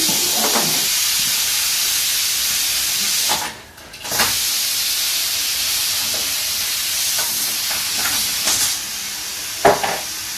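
Steam hisses steadily from an older-style stovetop pressure cooker as it vents pressure in a home kitchen, a continuous broadband rush with a brief dip partway through and a few faint clinks.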